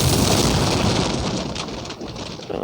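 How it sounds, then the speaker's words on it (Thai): A loud, booming explosion in the Roblox game Guts & Blackpowder with a dense low rumble that fills the sound, then trails off slightly toward the end. "ระเบิด"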